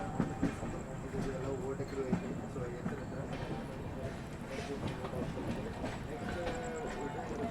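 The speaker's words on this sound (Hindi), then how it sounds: "इधर देखो छत्तीसगढ़ एक्सप्रेस आ चुकी है" The Chhattisgarh Express pulls into a station on the Howrah line, sending a steady rumble with faint rail clatter throughout while people talk nearby.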